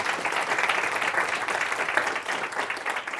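A workshop audience at UCLA Anderson School applauds to welcome a speaker, giving a steady, dense round of clapping that holds at a fairly loud, even level throughout.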